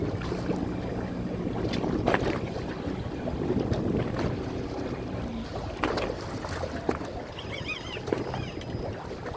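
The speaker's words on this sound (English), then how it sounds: "Let me throw the boat in gear here." A fishing boat's engine idles in gear while trolling, a low steady hum under wind buffeting the microphone, with scattered knocks and clatter on board.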